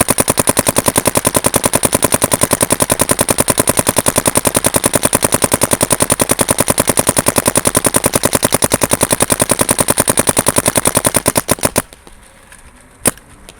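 A Dye M3+ paintball gun firing a long rapid burst of evenly spaced, sharp, loud pops for about twelve seconds, then stopping, followed by near quiet with a single click.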